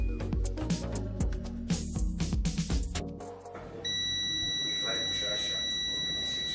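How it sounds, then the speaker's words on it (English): A multimeter tests a short-circuited line on a Tecno phone motherboard, its steady continuity beep sounding loud and unbroken through the second half after some handling noise and talk. "let's check with our multimeter"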